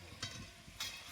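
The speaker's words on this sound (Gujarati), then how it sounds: "ભૂંગળા તળવા માંડ્યો" Potato bhungla fryums fry in hot oil with a steady close sizzle, swelling into two brief louder hissing bursts as they are stirred.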